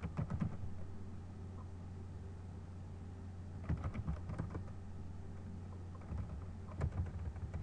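Keys clatter on a computer keyboard while a command is entered on an Ubuntu server, quiet bursts of rapid typing separated by pauses.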